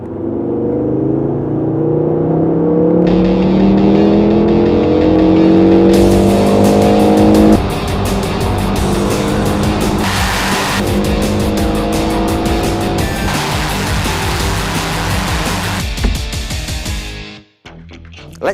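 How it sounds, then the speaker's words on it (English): A Ford Focus RS car engine revs and accelerates hard, climbing through rising gear sweeps before dropping to a raspier, gruffer roar with crackles, loud and close until it cuts off near the end. "So then, this next test is all about engine noise."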